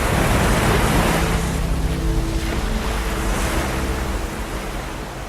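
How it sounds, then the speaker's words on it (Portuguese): Sea waves wash against the shore in a loud, steady roar of surf with some wind, continuous and without talk. "o som do mar"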